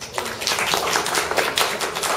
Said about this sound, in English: please give your applause